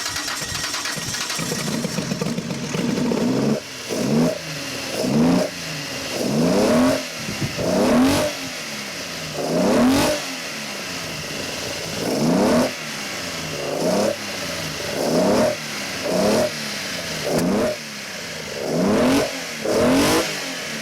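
A car engine cranks and catches, then revs in a steady series of about a dozen surging bursts, each rising and falling sharply, loud and close with no talking.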